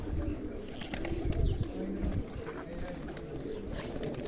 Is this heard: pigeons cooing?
yes